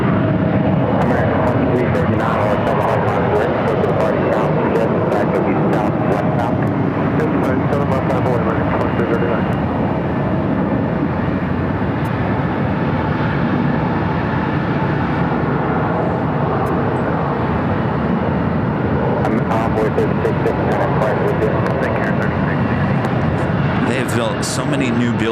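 A jet airliner taking off from runway 7 left at Phoenix airport roars continuously at loud, steady strength for the whole stretch, a broad, sustained engine rush with people talking over it.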